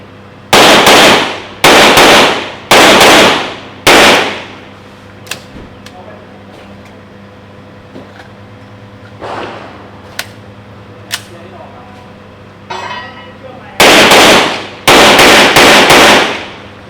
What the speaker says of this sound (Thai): สแตกเกอร์โตพีสามารถ ยิงอย่างแม่นยำได้โอเคมาก ๆ เลยครับ